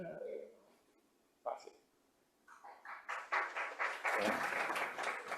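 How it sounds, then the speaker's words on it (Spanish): A scientific forum audience breaks into applause that builds from scattered claps to a dense, steady round, with a few spoken voices just before it. "Muchas gracias por sus aplausos"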